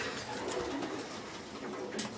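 Pigeons cooing softly in a racing-pigeon loft before their return flight, low murmuring calls running steadily through the whole stretch with one brighter call near the end, no voices.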